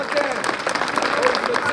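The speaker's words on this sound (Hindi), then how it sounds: "जोरदार तालियां हो जाए" An audience at a Chhipa community gathering in Kishangarh, 2024, claps in a steady, dense burst of applause, fairly loud and close, with voices talking over it.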